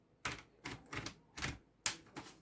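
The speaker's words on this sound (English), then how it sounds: "you may want to use something like a guitar type pick, like I'm gonna get here" A guitar pick works around the seam of an Asus ExpertBook B1592CVA laptop case, prying it open with a handful of sharp, close plastic clicks and snaps spaced about half a second apart.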